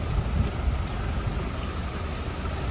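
Heavy rainy-season rain around Chiba station in Japan, a dense steady roar of drops on pavement and shelters with a low rumble of traffic underneath, constant and close, no speech.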